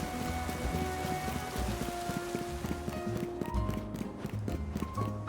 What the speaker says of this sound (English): I thought the rain was stopping